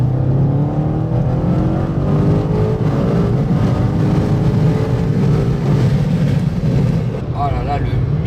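BMW M5 Competition accelerating hard, a loud, steady engine roar heard from inside the car that climbs in pitch over several seconds with a gear change, closing with a brief vocal exclamation.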